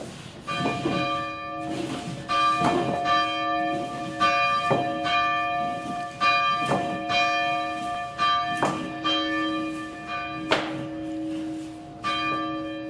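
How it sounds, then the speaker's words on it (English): Old church bell cast by the Bullseye Bell Company in 1893 tolls in a steeple, about eight evenly spaced strokes with long ringing decay, heard clearly from nearby over faint outdoor background. "took a picture of the bell, and it says Bullseye Bell Company 1893. So it's an old bell."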